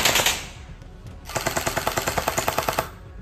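An SLR electric gel blaster gun fires in two rapid bursts, the second a rhythmic stream of about a dozen sharp snapping shots, close and loud with no talk.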